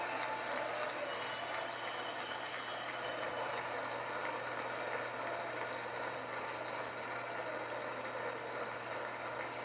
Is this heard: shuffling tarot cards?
no